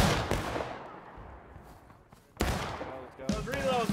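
Musket volleys ring out in the War of Rights video game, a sharp opening crack that decays into a long rolling echo, then a second loud burst of shots and further reports as voices shout nearby.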